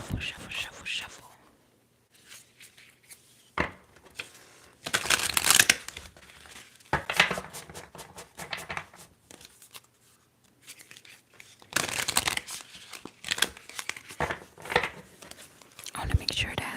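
A brand-new, stiff tarot deck shuffled up close, giving repeated crackling, papery riffle bursts with short pauses between them, while a soft whispering voice carries on underneath.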